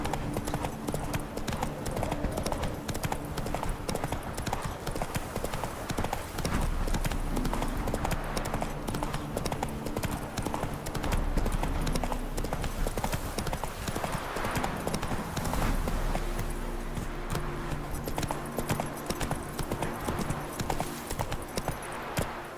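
Horse hooves galloping in the video game The Witcher 3 Wild Hunt, a fast continuous clip-clop rhythm running throughout alongside low game music, with a brief voice in the background.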